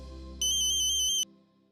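A phone ringtone rings once, a bright electronic warble of repeated high pulses lasting under a second, sounding over a low musical drone in a Hindi TV drama scene.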